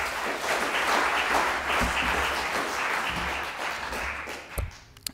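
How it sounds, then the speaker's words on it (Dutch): Steady, dense applause from a large audience at a university debate in Amsterdam, loud and sustained throughout, with a couple of louder knocks or thumps near the end as it dies down. "Ook voor hen graag uw applaus."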